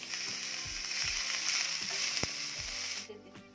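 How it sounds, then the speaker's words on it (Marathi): Winged beans fry in a spoonful of hot oil in a pan, producing a steady close sizzle with faint stirring scrapes, then dying away suddenly near the end. "1 चमचा तेल गरम करायचा आणि यामध्ये या रंग बदलेपर्यंत छान 2 ते 3 मिनिट परतून घ्यायचे आहेत"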